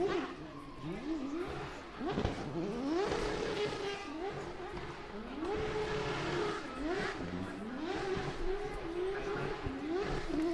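A race car engine revs hard at high RPM, climbing through repeated rising sweeps with a rough, snarling tone that stays loud and continuous.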